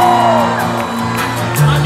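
A concert crowd in Austin, Texas cheers and whoops loudly and continuously, a dense wash of voices with a rising shout near the end.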